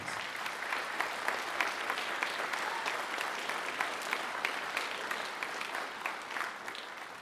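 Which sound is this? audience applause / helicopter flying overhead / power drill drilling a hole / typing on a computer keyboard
audience applause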